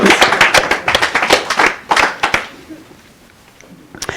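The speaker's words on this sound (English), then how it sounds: "We can do this when she gets some applause." Clapping from a small gathering at a Lake Tahoe weekend event, a burst of hand claps for about two and a half seconds that fades to quiet, with a few scattered claps at the end.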